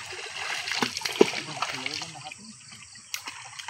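Catla fish splashing at the surface of a pond after being hooked on a hand fishing rod, a few sharp splashes and sloshes of water close by, under intermittent talk.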